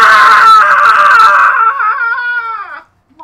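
A person vocally imitates a pig's blood-curdling squeal in one loud, harmonic shriek of about two and a half seconds that wavers in pitch and then trails off into silence.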